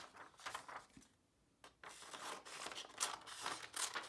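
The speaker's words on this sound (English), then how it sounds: "So I'm going to cut along each line." Scissors cutting paper along drawn lines, giving close, quiet snips and rustling paper in short bursts with one brief pause, no talking.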